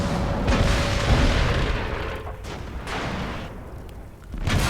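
Tank cannon fire in World of Tanks gameplay, with heavy booming blasts and rumbling impacts rolling over one another, loud and dense, repeated across the stretch without a clear gap and without talk.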